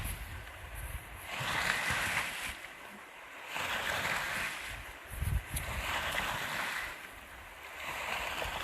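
Water swishes and surges in slow waves as the wake of a boat passing under a bridge washes past, rising and falling in broad, rhythmic bursts with a low rumble.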